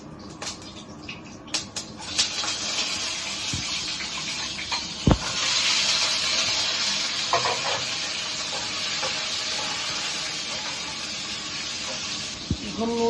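Cubed potatoes drop into hot oil with panch phoron and fenugreek for dum aloo. A sudden loud sizzle follows, and a steady frying hiss continues, broken by occasional clinks and stirring.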